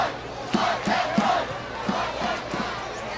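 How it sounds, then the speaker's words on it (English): A crowd at a high school football game yells together as a punt is set up, loud rhythmic shouts rising and falling in several bursts over steady background noise. "And you have the crowd cheering to block the punt right here."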